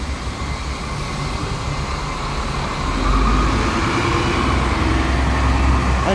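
A triaxle Scania Alexander ALX400 double-decker bus in Gloucester passes close by, its deep engine rumble loud and steady and rising slightly as it goes past, with no voices.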